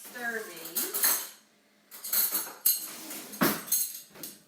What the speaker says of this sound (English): now I will get a spoon and stir these